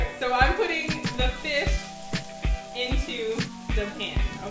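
Saltfish, onions and scallion sizzle steadily in a frying pan, a continuous close crackle broken by occasional soft clinks and stirring knocks.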